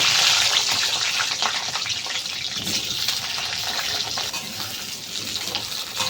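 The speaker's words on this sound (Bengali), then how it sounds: "তেলটা গরম হয়ে গেছে, প্রথমে আমি আলুগুলো ভেজে নেব।" Potatoes frying in hot mustard oil in a pan, a loud rushing sizzle that starts strong and settles into a steady bubbling hiss, close and continuous.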